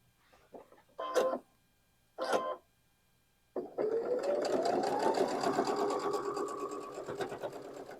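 A sewing machine stitches four-patch quilt blocks, running in one steady, fairly loud whirring burst that begins after two short handling noises and a pause.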